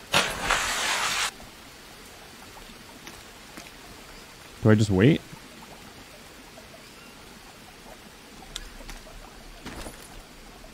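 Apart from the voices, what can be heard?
coconut dropped into water, Green Hell video game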